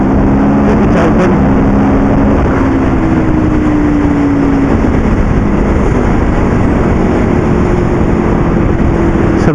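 A motorcycle engine holds a steady, loud drone with the throttle kept open, its pitch sliding slightly as it runs, under heavy wind buffeting with no talk.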